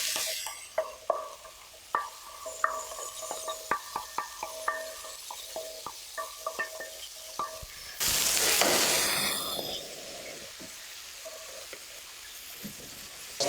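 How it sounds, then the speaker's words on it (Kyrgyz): Onion frying with meat in a pan, stirred with a utensil: steady sizzle under repeated scraping and clicking strokes, then a sudden loud hiss that gradually eases, close and without talk. "Анда эмесе бул пиязды биз этке кошобуз."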